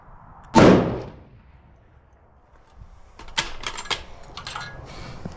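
A rifle fires a single sharp, loud report during a structured barrel heat test, followed by a decaying echo and then faint clicks and handling noises.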